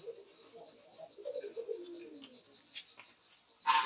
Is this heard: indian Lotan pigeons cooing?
yes